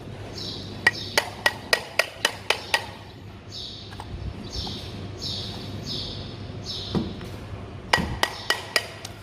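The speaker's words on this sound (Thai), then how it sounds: "ใช้การเคาะด้วยค้อน" Sharp metallic hammer taps on electric fan parts in quick bursts, two clusters of rapid strikes separated by a pause, fairly close, with birds chirping in the background.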